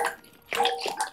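Water sloshes and gurgles in short close splashy bursts as someone drinks out of a toilet bowl during a game session, with no talk.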